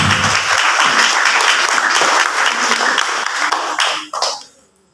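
A church congregation applauds for Jesus with dense, loud, sustained clapping that fills the space and then fades quickly to silence at the end.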